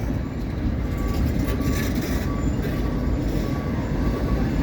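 A CSX tie-replacement work train rolls steadily past on the rails at Point of Rocks, a continuous loud rumble of wheels and cars that holds at a constant level and carries no talk.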